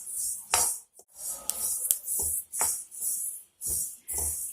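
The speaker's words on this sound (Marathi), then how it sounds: "तोपर्यंत आपण तीळ भाजून घेऊ." Sesame seeds dry-roasting in a pan for sesame-jaggery laddoos, stirred in steady bursts that give a close, dry scraping and rustling with light clinks of the spoon against the pan, separated by brief pauses.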